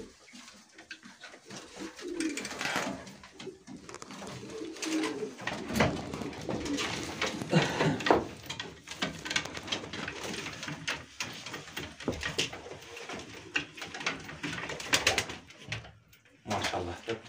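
Soft cooing from a flock of about 50 pigeons repeats throughout, mixed with rustling and fluttering movement nearby, with occasional faint voices in the background.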